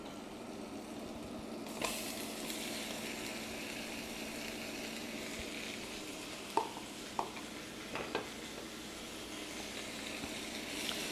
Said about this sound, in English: Once the butter has started to soften, we will add 1 small white onion that I have cut into thin strips.